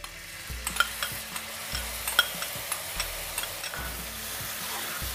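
Spices and five spoons of yogurt stirred through hot oil in a pan, a spoon scraping in steady repeated strokes close by over a soft continuous sizzle, with no one speaking.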